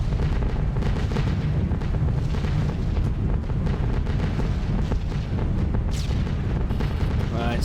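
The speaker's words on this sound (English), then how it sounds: "right at the bottom tier of the flak coming up" Flak bursting around B-17 bomber formations in a flight game: a dense, continuous rumble of deep booms and crackling explosions, loud and overlapping, with engine drone beneath and a brief voice.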